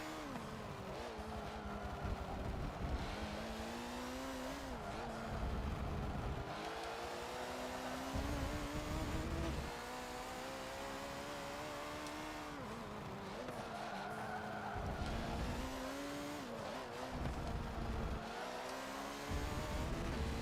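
Race car in Forza 7 accelerating, revving and skidding with repeated tire squeals, engine pitch rising and falling through gear changes over a sustained, fairly close drive.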